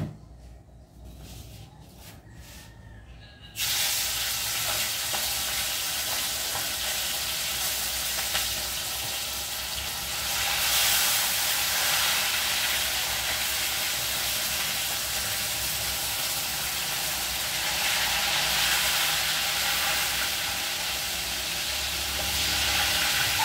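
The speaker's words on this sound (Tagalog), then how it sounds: "prituhin muna natin ito." Food hits a hot pan after a quieter start, then crackles and sizzles loudly and steadily for the rest of the stretch, with the hiss swelling at times.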